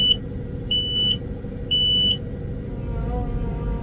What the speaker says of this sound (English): This beeper is ridiculous.